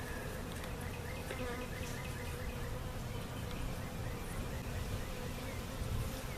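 Honey bees at an open hive during a swarm-cell inspection give off a dense, steady buzzing drone, close and continuous throughout, with no speech.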